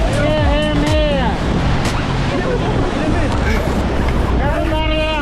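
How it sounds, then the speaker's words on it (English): Whitewater rapids on a Tennessee river rafting trip, a loud continuous roar of rushing water with wind buffeting the microphone and people shouting over it. "And now we're off to more crazy rapids."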